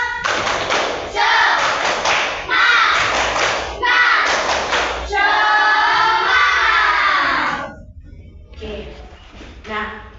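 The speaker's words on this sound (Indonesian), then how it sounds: "coba tepuk semangat" A primary school class doing a rhythmic spirit-clap cheer, children clapping in patterned bursts and chanting loudly together in unison, followed by a quieter tail of scattered voices.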